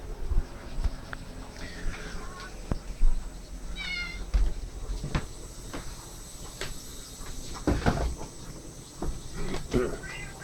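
A cat gives a few soft meows among scattered taps and rustling, while a person talks faintly in the background.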